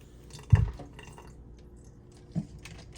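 A little warm water drips onto a makeup brush cleaning mat in two soft, separate wet drops, quiet and close, with no talk.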